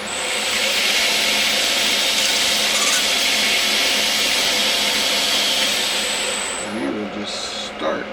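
Sanding a metal ring with sandpaper wrapped around a round rat tail file in a garage workshop, a steady broadband rubbing hiss lasting several seconds before tapering off, with a brief voice near the end.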